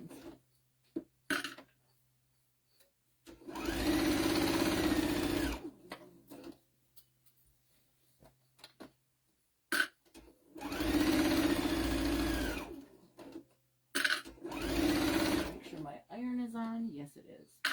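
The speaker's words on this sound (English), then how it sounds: "my sewing machine automatically" A sewing machine stitches a flour sack towel in two long bursts with short starts and stops between them, close and clear, with brief talk near the end.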